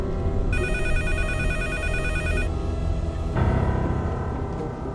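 An electronic telephone ring trills for about two seconds, loud and close, over a low background rumble, then stops.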